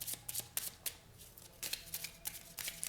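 Tarot cards are shuffled close up in quick, crisp riffles and snaps, arriving in irregular bursts with brief pauses between them.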